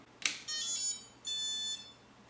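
Two bright electronic chimes ring out after a short click, each a sustained harmonic tone lasting about half a second, with a brief gap between them.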